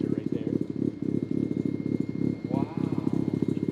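A Mazda RX-7 FC rotary engine idles at about 900 RPM, soon after starting, after sitting for 15 years, producing a close, loud, choppy pulsing burble with a steady uneven rhythm.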